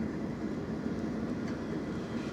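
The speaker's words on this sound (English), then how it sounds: "Okay, here's a tram coming." A tram on the Finch West LRT rolls past outdoors in January, a steady low rumble of wheels and motor holding at a fairly loud, even level throughout, with no talking.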